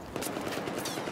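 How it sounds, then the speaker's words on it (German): Rapid gunfire in the Battlefield 4 online multiplayer shooter: a dense stream of shots and crackling bursts, fairly close and steady throughout, with no talking. "Schießen schon wieder auf mich."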